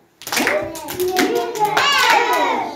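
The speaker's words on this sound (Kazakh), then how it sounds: "Ендеше өзімізге 3 шапалақ соғайықшы." A group of young children clap their hands together in a classroom, the sharp claps mixed with their high voices speaking and calling out over the whole short stretch.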